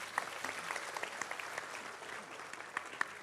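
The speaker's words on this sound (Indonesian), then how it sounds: "Tepuk tangan untuk kita semuanya." A crowd applauds steadily, a dense patter of clapping from many hands heard at moderate distance, with no speech over it.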